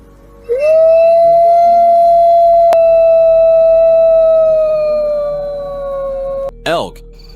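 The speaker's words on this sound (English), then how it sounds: "Wolf." A wolf's long, sustained howl rises, holds steady and slowly fades, loud and alone, followed by a brief wavering vocal burst at the end.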